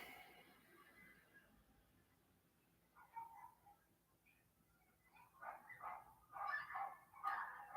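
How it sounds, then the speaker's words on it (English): Several dogs yap in short, scattered bursts that grow louder and more frequent toward the end, over a faint, steady background hum. "now we got dogs yapping everywhere."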